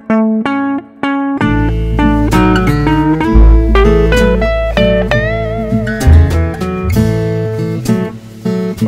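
Recorded music with reverb: a plucked, keyboard-like melody over a deep bass line, with notes ringing out and blurring into one another.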